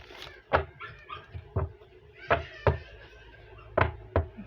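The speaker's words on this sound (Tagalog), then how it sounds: "Yung aso ng kapitbahay, grabe." A dog barks in short, separate bursts, several times, at moderate distance, with quieter background sounds between barks.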